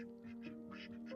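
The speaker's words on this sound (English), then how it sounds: "The ducks are a bit confused. They're not sure why I'm sitting in their garden." Several ducks quacking in a garden, a run of nasal calls at moderate distance over a steady low hum, with no talk.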